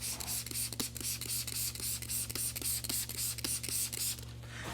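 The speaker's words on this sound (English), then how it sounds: "we're gonna go ahead and spray the area that we're working" A trigger spray bottle of soapy water is pumped onto a car headlight in a quick series of hissing bursts, close by and evenly paced, over a faint steady hum.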